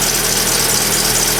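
A car engine idles steadily up close, a constant loud rumbling hum with no talking, with the alternator charging at maximum output at tick over.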